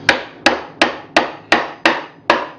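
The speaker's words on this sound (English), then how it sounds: "These came with the Hive kit, and there's holes pre-drilled that I'm just nailing through." A hammer drives 2-inch galvanized nails through pre-drilled holes into a wooden bee hive box, seven sharp, evenly spaced blows about a third of a second apart, loud and close with no talking.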